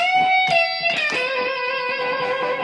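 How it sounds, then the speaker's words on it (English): A bright Stratocaster electric guitar plays a few picked notes, then lets a chord ring out cleanly with little distortion. "So you'd go from a normal Strat sound that would sound like this"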